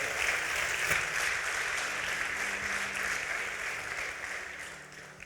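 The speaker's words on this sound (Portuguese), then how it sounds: "Só crente aplauda Jesus aqui nessa noite." A church congregation applauds during a Sunday service, a dense steady clapping that fills the room, loudest at the start and slowly tapering off over several seconds.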